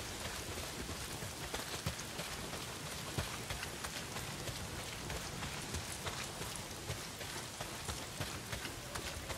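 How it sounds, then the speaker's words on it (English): Heavy rain from the game Days Gone pours down as a dense, even hiss with scattered sharper drops spattering on surfaces, steady throughout and without voices. "not if it's pissing down rain"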